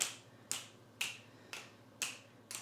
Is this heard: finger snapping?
yes